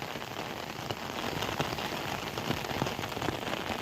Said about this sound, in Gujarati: એ વરસાદ આવ્યો